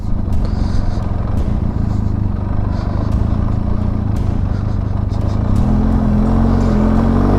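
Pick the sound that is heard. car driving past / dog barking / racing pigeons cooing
car driving past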